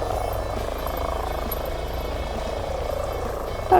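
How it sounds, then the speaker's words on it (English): A second helicopter coming in to land in a valley between a dam and a lake, its rotor drone steady and fairly distant, holding an even level before a brief louder bump at the end. "That's the second helicopter that's coming into land"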